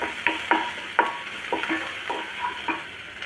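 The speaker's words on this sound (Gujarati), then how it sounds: "હવે આને સરસ આપણે પહેલાં થોડુંક સાંતળી લઈએ" Ginger, garlic and onion are stirred as they sauté in a pan, with a soft sizzle under repeated scraping strokes of a spoon, about one every half second.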